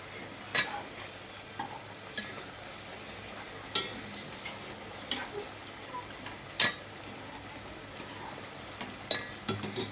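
Pressure-cooked mutton being mixed into roasted masala for a spicy rasta, a low steady sizzle with sharp scattered clicks and knocks of a spoon against the pot at irregular intervals.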